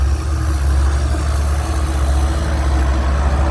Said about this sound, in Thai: มาแล้วรถไถครับ